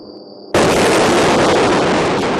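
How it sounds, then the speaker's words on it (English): A thunderous explosion goes off at night in Gaza: after a quiet half second, a sudden loud blast erupts and rolls on as a sustained, heavy rumble. "Overnight, a thunderous explosion lights up the sky."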